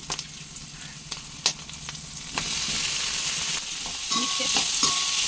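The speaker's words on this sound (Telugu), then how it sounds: "ఇప్పుడు మనము పొట్లకాయ ముక్కలను వేసేసుకున్నాము" Ridge gourd pieces tossed into hot tempering oil with green chilies and curry leaves, stirred with scattered utensil clacks as the sizzle swells louder and stays steady through the second half.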